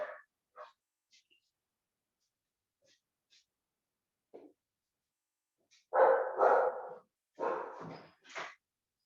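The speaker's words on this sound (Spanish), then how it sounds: "lamentablemente el perrito estaba molestando mucho, un perrito del vecino" A neighbour's small dog barks in scattered bursts during an online class, the barks fairly close and mixed with brief voices and whimpering breaths.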